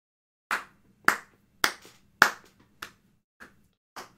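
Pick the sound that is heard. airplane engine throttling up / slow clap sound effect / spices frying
slow clap sound effect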